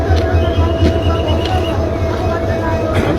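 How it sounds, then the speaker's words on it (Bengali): A train engine keeps running after a rail accident, a steady loud low rumble and drone that fills the scene without pause. "ট্রেনটির ইঞ্জিন এখনও বন্ধ করা হয়নি"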